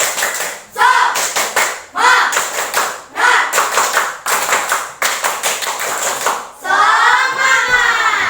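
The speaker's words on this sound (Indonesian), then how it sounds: "Ibu mau dengar juga tepuk semangat dari anak-anak kelas 5" A group of fifth-grade schoolchildren clap in a rhythmic patterned cheer in a classroom, bursts of synchronized claps with voices chanting along, loud and close.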